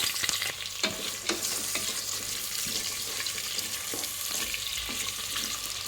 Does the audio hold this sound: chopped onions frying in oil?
yes